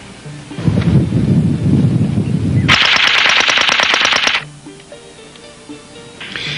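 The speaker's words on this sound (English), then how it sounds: "This device suppresses muzzle blast so well that the mechanical noise of the weapon becomes" Suppressed gunfire from a homemade bicycle-clamp suppressor fired in a field test, a loud burst of rapid repeated shots with the weapon's mechanical clatter audible, surrounded by low rumbling noise.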